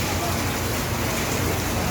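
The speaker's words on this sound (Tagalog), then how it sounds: "Umulan na naman ng malakas." Heavy rain pours down steadily during a flood in Dalandanan, Valenzuela, making a loud, dense, unbroken hiss with no pauses.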